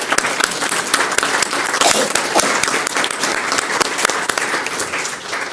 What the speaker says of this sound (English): If we can give her a huge round of applause as she stands.